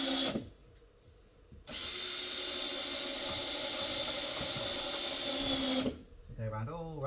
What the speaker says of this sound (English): They're designed for drill drivers, these types of screws.